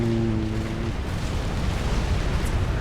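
A nuclear blast in the real-time strategy game Supreme Commander, a loud, sustained roaring rumble that fills the whole clip with heavy low-end noise, with a faint tonal hum fading out early on.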